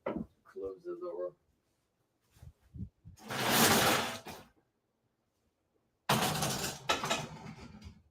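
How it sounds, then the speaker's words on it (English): A voice speaks briefly, then loud rushing wind noise and a clunk as a door is handled and shut, followed by more broadband rustling noise. "Let me just close the door."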